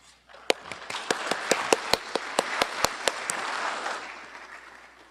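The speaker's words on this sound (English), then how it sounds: "Let's all give him a round of applause." An audience claps at a university opening ceremony, giving steady applause with sharp individual claps standing out, moderately distant in a large room, fading toward the end.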